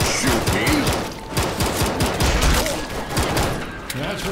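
Dense rapid gunfire in the Left 4 Dead 2 zombie shooter, sustained bursts throughout, with voices talking over the shooting.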